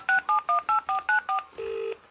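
Telephone keypad tones as a call is dialed: seven quick, evenly spaced dual-tone beeps, followed by a longer lower tone, clear and close with no talking.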